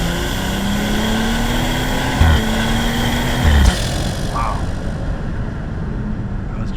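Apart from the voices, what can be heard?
loud BMW engine intake while revving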